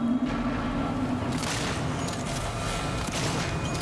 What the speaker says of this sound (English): Let's see what I can get done with the shotgun.